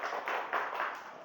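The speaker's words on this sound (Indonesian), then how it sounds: "Beri tepuk tangan untuk kelompok 3" Brief round of applause for group 3 in an elementary school teaching session: about a second of soft, scattered hand clapping from a classroom of students, faint and fairly distant.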